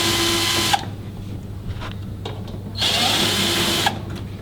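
A power drill whirs out screws from the top cover of an ice maker, two close, steady bursts separated by a quieter gap with faint handling clicks.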